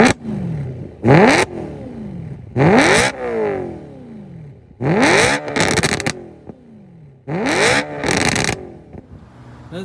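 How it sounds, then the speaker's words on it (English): BMW E93 M3 with catless test pipes revving hard in four separate bursts, each a loud rising engine howl that drops away between pulls, close to the car with no talking. "that's the exhaust setup we have. I think it sounds beautiful"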